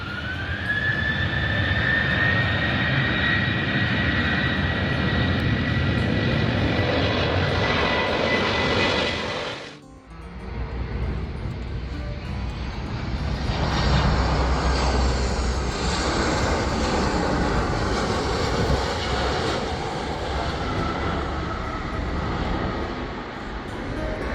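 A jet airliner landing on the runway at Madeira airport. A loud engine whine slides downward and cuts off briefly, then a heavy, sustained roar rumbles on, close and powerful, with no talk.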